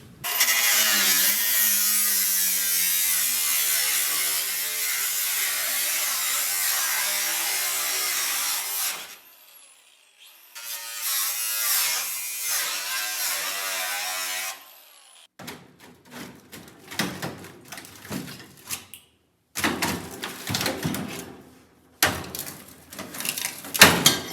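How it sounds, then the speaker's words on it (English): Cutoff wheel grinding through zinc-coated metal on a VW Beetle body, loud harsh screeching cuts in two long bursts, followed by shorter intermittent rattling and clanking bursts. "So I'm going to take the cutoff wheel and just cut it right here"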